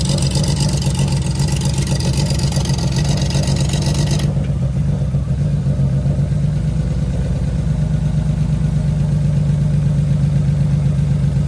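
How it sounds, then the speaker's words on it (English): A steady, rumbling BMW E36 engine idle with a raspy, ragged exhaust note from a large exhaust leak, loud and close, continuous throughout with no talking. "that's just a big old exhaust leak"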